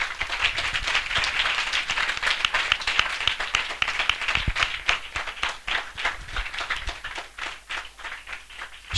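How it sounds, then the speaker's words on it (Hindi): A church congregation at a spiritual revival assembly claps loudly and steadily throughout, a dense run of individual claps rising and falling with no talk. "हम जोरदार तालियों से उनका स्वागत करें।"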